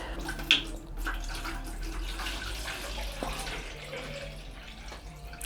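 Water trickles and splashes steadily from a leaking garden hose in a greenhouse, a soft continuous running sound at moderate distance over a low background hum.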